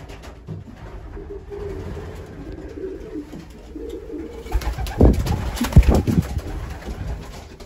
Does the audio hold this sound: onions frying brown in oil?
no